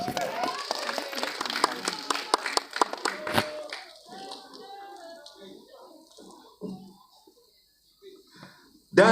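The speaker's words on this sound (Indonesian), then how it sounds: "Kita berikan tepuk tangan untuk Guntur Suharyanto." Audience claps for a film director at a press conference, a short burst of scattered hand claps that fades quickly, followed by murmuring voices and small room noises.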